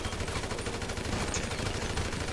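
Rapid gunfire in a GTA V Online shootout, a dense rattling stream of shots held at moderate distance with no pauses, under a steady background hiss.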